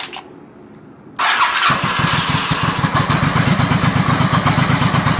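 A 1986 Honda Shadow 700 motorcycle cranks briefly after a quiet moment, then catches and settles into a loud, steady idle with a throbbing rhythmic pulse close by.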